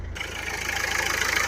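A 2012 Nissan Sunny XV's engine idles just after its push-button start, a steady, smooth low hum with an even pulsing rhythm, recorded close with no talk.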